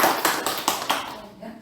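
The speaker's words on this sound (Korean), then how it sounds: "박수 한번 쳐드리세요." Several people clap together at a Won Buddhist dharma service, a short burst of rhythmic, fairly close claps that fades out after about a second.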